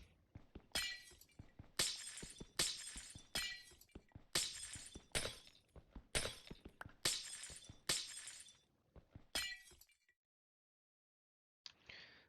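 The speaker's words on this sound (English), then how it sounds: "The sound of glass breaking." Glass breaks over and over in the Minecraft Nomifactory modpack, about a dozen sharp shattering crashes in a quick, even rhythm. Each is crisp and bright, and a last faint crash comes after a short pause.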